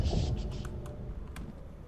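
Computer keyboard typing during an online game session, a short run of soft, quick clicking keystrokes heard close up over a low background hum.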